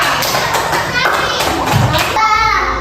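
A classroom of children claps for a classmate, a quick burst of close, uneven hand claps mixed with lively children's voices and chatter.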